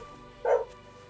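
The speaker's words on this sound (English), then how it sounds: "Sorry, the dog outside is my neighbor's dog." A neighbor's dog barks once outside, a single short, mid-distance woof against a quiet indoor background.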